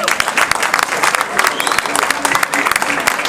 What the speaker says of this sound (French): Ça mériterait bien vos applaudissements quand même.